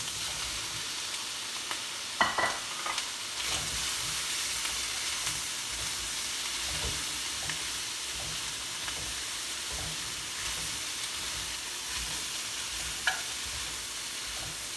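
Vegetables sizzling in a stir-fry pan, a steady hiss and crackle running for several seconds with occasional clicks of a utensil against the pan, close and moderately loud, no talking.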